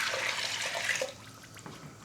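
Water poured from a container into a peach canning mixture in a home kitchen, a steady splashing rush that runs loud for about a second, then softens to a thinner trickle.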